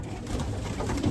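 A racing pigeon coos softly and close by, a low throaty murmur over a brief moment with no talk.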